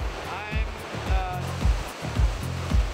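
Rushing whitewater on Homestake Creek, a steep mountain creek used for a kayak race, roars in a steady, close, broadband wash with rhythmic surges, while voices are faintly audible over it.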